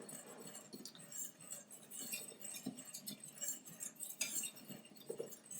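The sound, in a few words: mixing dry scone ingredients together in a bowl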